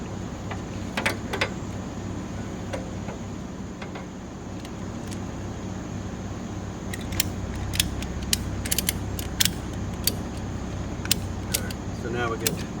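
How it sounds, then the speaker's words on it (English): Winch slowly lowering a motorcycle onto its stand on an RV-mounted lift, with creaking and ratcheting clicks over a steady low mechanical hum and scattered metallic ticks, fairly close. "So now we get this side a little bit winched down."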